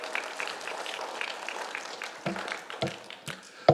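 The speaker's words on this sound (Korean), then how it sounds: "박수로 축복합시다" Scattered applause from a church congregation during a service, with sparse, uneven claps that pick up and grow sharper toward the end.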